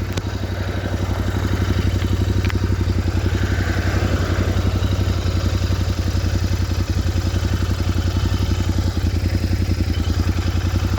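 A Royal Enfield Continental GT 650 motorcycle being ridden, its engine giving a steady, rhythmic thrum with a mechanical clatter. The sound is loud and close throughout, with no talking.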